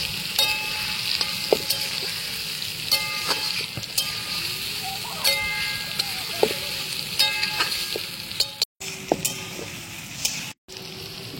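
About three kilos of chicken frying in a pan with ground tomato, ginger and garlic, a loud continuous sizzle with scattered clicks and stirring scrapes, close by.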